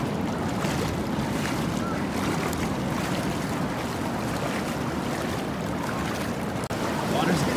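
Cold ocean waves break and wash continuously at a beach, a loud, steady roar of surf with wind buffeting the microphone throughout.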